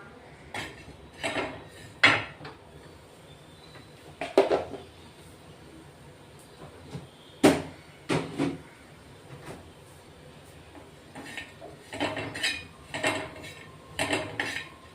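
Grated coconut dry-roasted in a pan, with a utensil scraping and clinking against the metal in irregular sharp knocks and softer stirring scrapes, fairly close and moderately loud.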